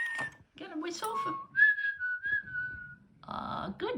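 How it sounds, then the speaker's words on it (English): A ROPET AI companion robot whistles, with a long sustained tone in the middle and short chirpy phrases around it, under and between bits of nearby talk. "She's responding, so she'll whistle back to Tweety Bird sometime."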